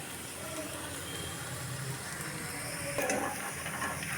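Boiled potatoes are broken by hand and stirred into fried onions in a pan for crispy potato chops. A soft, steady sizzle and stirring scrape stay faint throughout, with a slightly louder scrape near the end.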